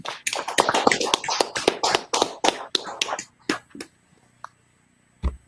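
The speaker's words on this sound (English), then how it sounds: "Clap it up, Akim" Scattered hand claps from people at a Christian class gathering in North Carolina, a burst of uneven overlapping claps that thins out into a few isolated claps and then stops, fairly close.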